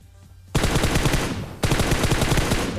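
Sudden loud bursts of rapid automatic gunfire in PUBG Mobile: one sustained volley, then a brief dip and a second burst, close and dense with no talking.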